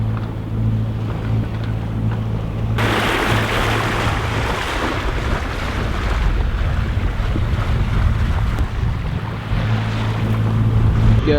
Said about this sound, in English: We got some wind.